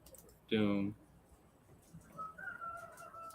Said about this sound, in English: there's a rooster that lives right behind our store